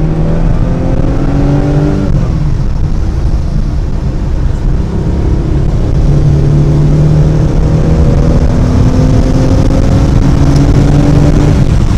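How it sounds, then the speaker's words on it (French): A 1973 Porsche 911 2.4S flat-six engine heard from the cabin while driving, loud and continuous, its pitch rising through the gears with a brief drop at a shift before climbing again. "Imaginez-vous au volant maintenant de cette 2 litres 4S."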